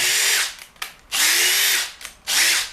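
A Kyocera cordless impact driver runs in three loud, whining bursts of about half a second to a second each, separated by short pauses, with no talk.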